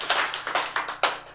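A church congregation claps briefly during a sermon, producing a quick burst of irregular claps at moderate distance.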